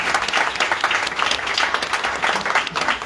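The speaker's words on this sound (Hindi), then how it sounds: "ताली बजा के धन्यवाद।" Audience applause at an outdoor road sermon in Ludhiana, a dense continuous patter of many hands clapping close by for about three seconds with no talking over it.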